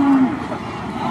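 Cattle mooing at a large cattle and goat market, Hazratpur Paragram: one drawn-out low moo near the start, then a busy crowd murmur and market bustle underneath.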